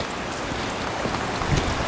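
Steady rain patters on the ground around a walker near the River Greta, a soft continuous hiss with faint scattered drops and no voices.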